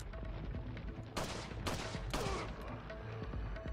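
Several pistol shots ring out in Resident Evil 4 on PS2, three sharp loud cracks spaced about half a second apart over a steady game ambience, with no talk.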